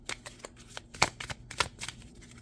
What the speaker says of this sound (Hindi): बल्कि एक कार्ड और निकालूंगी जो लास्ट कार्ड है।